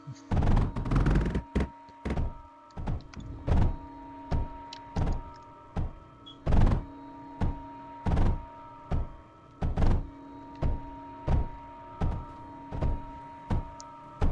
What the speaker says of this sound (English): Oh, that's what the explosions were.